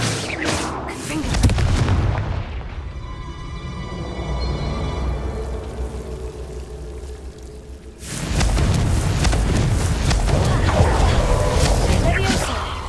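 The Confringo explosive spell in the game Hogwarts Legacy sets off a heavy booming blast with a long rumbling tail, followed a few seconds later by a second loud burst that rolls on to the end.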